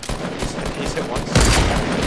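Gunfire in a Fortnite match: a steady barrage of shots runs under game audio, with a louder, heavier burst near the end of the two seconds.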